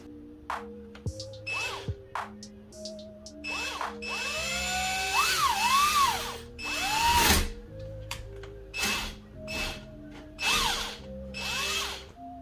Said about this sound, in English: I've drilled through carbon fiber with them, and it goes relatively smooth